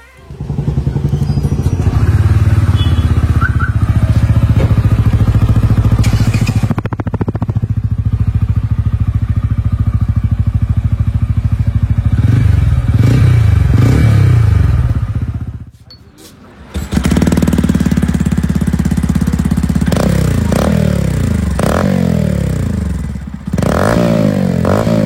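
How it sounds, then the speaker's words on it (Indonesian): A TVS Ronin retro motorcycle idles with a steady, loud exhaust rumble, then revs several times in sharp bursts, with a brief drop near the end and no talking. "Lanjut kita akan dengarkan suara knalpot dari TVS Ronin."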